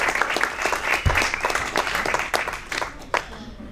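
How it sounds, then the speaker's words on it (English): Crowd applause at a political candidates night in Middlesex County, a room full of dense clapping with a few louder, sharper claps standing out, fairly close and without speech. "So give yourselves a round of applause."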